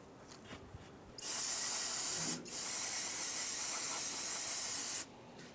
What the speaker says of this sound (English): Once you're tightened down, we'll get some brake clean.